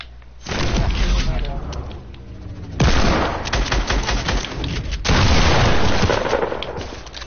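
Loud, continuous video game gunfire, rapid bursts of shots and booming blasts running without pause through the whole stretch, dense and close with heavy low rumble.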